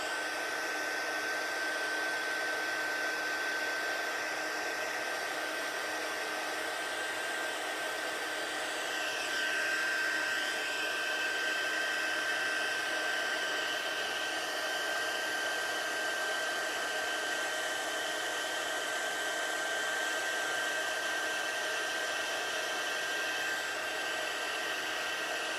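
A heat embossing tool blows hot air onto a paper card, a steady, close whooshing hum with a faint whine that runs unbroken and nearly level throughout.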